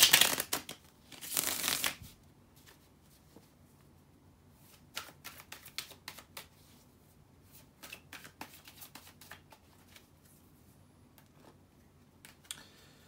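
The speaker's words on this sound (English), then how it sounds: "let me shuffle and see what you got" Tarot cards shuffled for a reading, a loud riffle at the start followed by a long run of soft, irregular card slaps and flicks, close and quiet with no talking.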